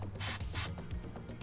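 Two short hissing bursts of CRC penetrating oil from an aerosol can, sprayed during handbrake cable work on a Toyota Land Cruiser, close by, followed by faint clicks and handling noises.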